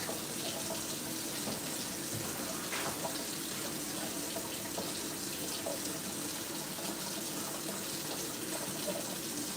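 Water running steadily from a kitchen tap while heating up for washing dishes, a continuous close hiss and splash with no talk.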